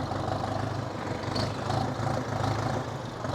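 A 5911 four-wheel-drive tractor engine runs steadily nearby at a fair-ground display, a continuous low rumbling drone holding an even level throughout.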